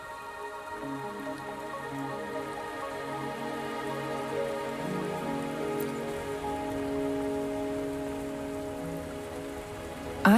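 Steady rain falls in the Wuthering Waves video game, pattering evenly on surfaces for several seconds over a low tonal music bed, with no voices.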